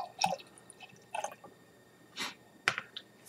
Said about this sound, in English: We're going to pour this into my Hardywood glass here.